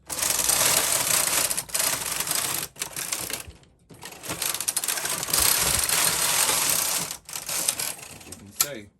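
A Brother KH-260 knitting machine carriage knitting white rows of Aran-weight yarn for a ladderback jacquard, giving a loud, continuous mechanical clatter and rattle in long passes. The passes are broken by brief pauses, and a faint voice can be heard.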